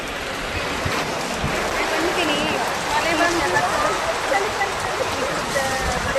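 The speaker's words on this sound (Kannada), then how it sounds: "ಜೋರು ಮಳೆ ಬಂತು." Heavy rain pours steadily during a shopping day out, a dense, even hiss of water on surfaces, moderately loud and continuous.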